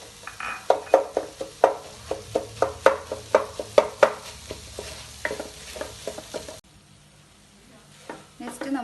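Chana masala with potatoes being stirred in a pan, a rapid series of sharp spoon scrapes and taps over a low sizzle, pausing briefly before a few more strokes.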